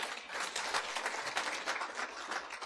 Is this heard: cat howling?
no